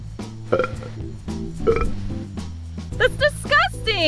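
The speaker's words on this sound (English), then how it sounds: "Burp with all you've got." Someone burps forcefully several times to cure hiccups, short guttural bursts close to the mic, mixed with high synthesized tones and other voices.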